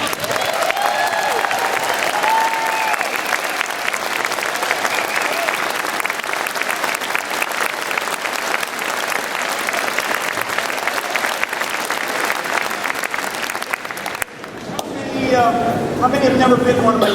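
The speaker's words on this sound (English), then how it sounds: "so we can give you a big round of applause" Sustained, dense applause from a large standing crowd at a town hall meeting in Ashland, Oregon, steady and loud for most of the stretch, then giving way near the end to cheering voices.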